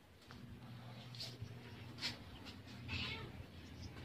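A stray cat meows intermittently in a residential yard, a few short cries spread across the moment over a steady low background hum.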